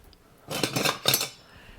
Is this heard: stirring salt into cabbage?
yes